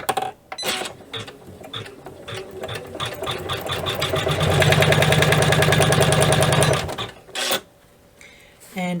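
A sewing machine stitches fabric on a zipper pouch, starting with short bursts, then running in a steady, rapid stitching rhythm that speeds up before stopping, close and clear with brief pauses.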